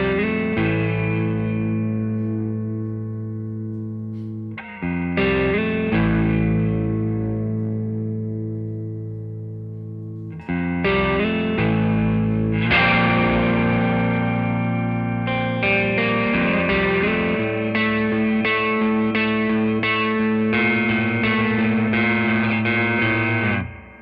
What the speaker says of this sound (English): So it just gives that nice subtle halo of a good spring reverb.